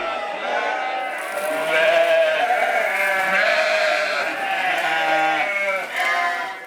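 White Dorper sheep, a South African breed, bleat loudly and close up in long wavering calls that overlap one another and fill the whole stretch without a break.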